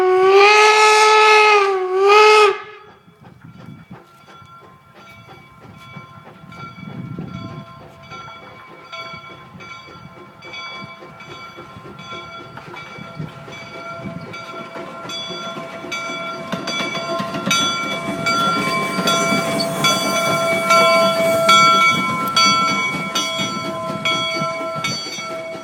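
The Golden Spike Museum's #119 steam locomotive heads out, opening with a loud steam whistle blast, then a rising chuff and rumble with ringing metallic tones as it gets under way.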